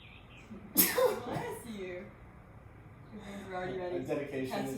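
A single sharp sneeze bursts out near the start, followed by a person speaking quietly afterward.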